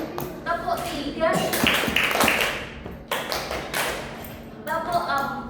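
A class of third-grade children claps together in counted groups, sharp bursts of claps landing between loud chanted counting voices in a lively classroom.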